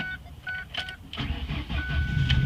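Ford Focus engine starting after an ignition repair: a few electronic beeps and clicks come first, then the starter cranks and the engine catches into a rough, steady idle close by.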